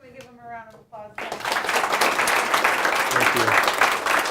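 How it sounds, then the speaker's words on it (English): A seminar audience breaks into a sustained round of applause, dense clapping filling the room right after a speaker's brief voice. "So can we give them a round of applause?"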